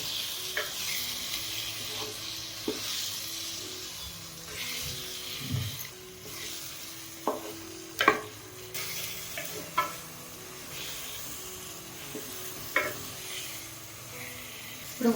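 Coconut masala sizzles steadily in a pan for a chicken and brinjal curry, with scraping and clinking of a spoon stirring it at irregular intervals throughout.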